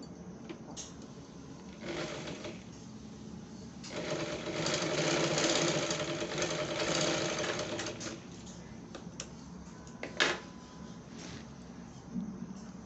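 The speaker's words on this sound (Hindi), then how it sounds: "दूसरी साइड भी इसी प्रकार से सिल लेंगे जैसे पहले को सिला।" Sewing machine stitching the side seams of a six-panel petticoat, its motor running in bursts of rapid, steady stitching, loudest in a long run mid-clip, with short pauses and clicks between runs.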